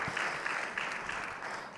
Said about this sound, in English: Can we please give her the round of applause she deserves after that beautiful